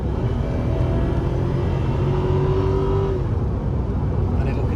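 A Porsche 928 accelerating at full throttle, a deep steady engine rumble heard from inside the car with a faint climbing tone, someone talking over it.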